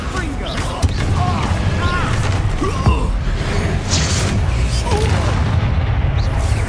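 Hogwarts Legacy on PS5, the Confringo blasting spell going off as a loud, booming explosion with a crackling burst amid continuous game combat noise and other impacts.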